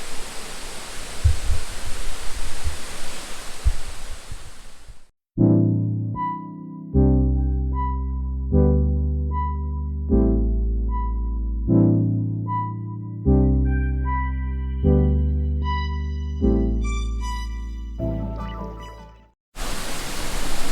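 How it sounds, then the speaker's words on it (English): Water rushes steadily over small cascades at the head of the Kuang Si waterfall, a dense hiss for about five seconds before music takes over, with the rushing returning briefly at the very end. "It starts with these little waterfalls and it flows all the way down there."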